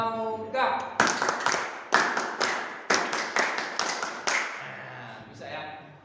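Group of people doing a scout clap rhythm (tepuk pramuka), a series of loud, sharp clapped bursts in an irregular patterned rhythm with brief pauses, close and fairly clear.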